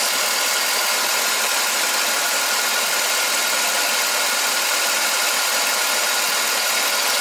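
A Chevy Tahoe engine idles with a misfire on cylinder five, giving a steady, close mechanical rumble with a slightly uneven, knocking character throughout and no talking.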